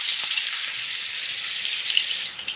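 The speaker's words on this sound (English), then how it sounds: "This is kind of a shallow fry." Steady, close hiss and crackle of homemade potato chips shallow frying in hot oil, a continuous dense sizzle that eases slightly at the end.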